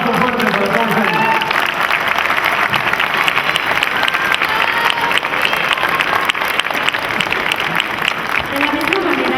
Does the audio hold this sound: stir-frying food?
no